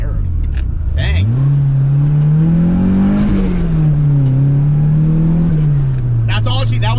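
Car engine pulled hard at full throttle, a loud droning rev that climbs and holds steady before easing off, with people talking over it inside the vehicle.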